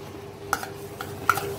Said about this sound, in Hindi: अब इसे अच्छे से थोड़ा सा सेक लेंगे